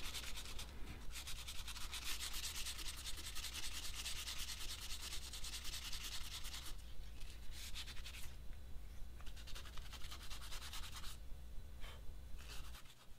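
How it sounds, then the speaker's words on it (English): A homemade steel knife blade is hand-sanded with quick, rhythmic back-and-forth rubbing strokes, close and continuous, broken by a couple of short pauses. "So once again, it's back to the sanding."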